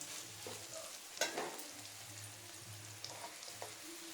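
Ivy gourd frying in a pan with onion, green chilli and curry leaves, a quiet steady sizzle broken by a few scraping stirs and a brief louder clatter, with no one talking.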